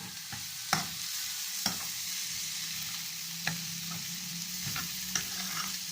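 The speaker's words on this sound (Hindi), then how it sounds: "इसको इसमें 2 मिनट के लिए फ्राई करेंगे" Vegetables with chilli and salt sizzle in a pan for a Spanish omelette, a steady broadband hiss with a few sharp clinks of a spoon stirring against the pan, no voices.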